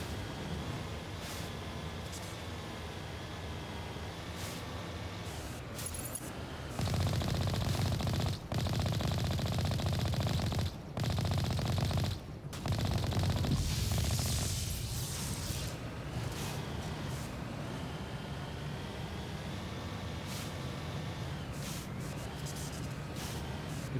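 Sustained automatic gunfire in the video game Mass Effect, loud rapid bursts rolling on and off over a constant background of game sound effects.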